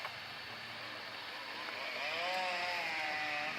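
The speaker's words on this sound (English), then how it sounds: "The neighbor through those trees is weed whacking." A neighbor's string trimmer whines steadily from some distance beyond the trees, its pitch rising and warbling as the throttle changes, with outdoor ambience and no talk.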